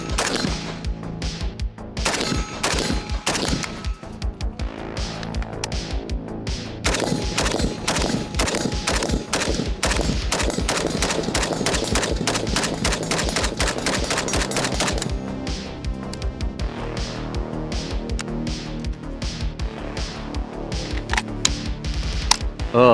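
PSA 556 KRINK rifle firing rounds in rapid strings, loud sharp cracks in quick succession with brief pauses between bursts, sustained throughout.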